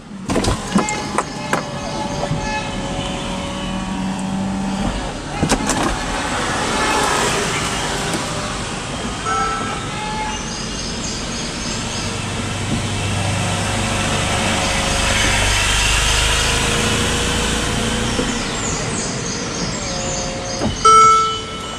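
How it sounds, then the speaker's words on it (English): Mercedes-Benz SLK350 roadster folding its hardtop roof down, a steady whirring motor hum with mechanical clicks and clunks as panels move, ending in a firm latch thunk at close range. "So before we begin, we'll go ahead and put the top down."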